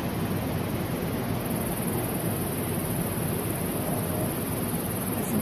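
Ocean waves at the beach in Brenton on Sea, a steady broad hiss of surf and wind with no distinct breaks, moderately loud and continuous without voices.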